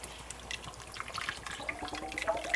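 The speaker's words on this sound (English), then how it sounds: "Go ahead and add in 1 can of evaporated milk." A can of evaporated milk being poured into a pot of bacon, potato and corn chowder: a soft, faint, continuous liquid trickle with small splashes throughout.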